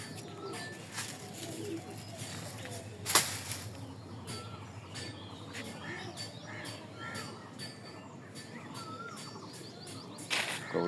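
Pet pigeons cooing in a loft, low soft coos repeating under a steady busy background with occasional clicks and flutters, one sharper knock midway, fairly distant and faint.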